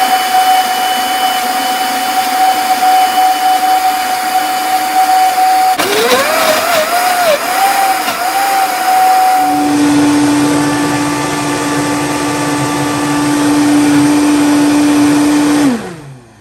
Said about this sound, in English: now we are ready to blend.